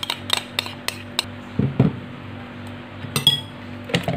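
Banana being stirred into cake batter in a bowl brings sharp clinks and taps of a utensil against the bowl, in irregular bursts with soft thuds between, fairly close and with no voices.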